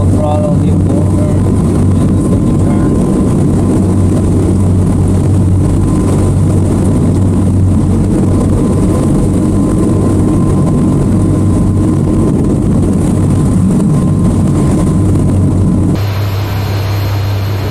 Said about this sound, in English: Full throttle, new motor.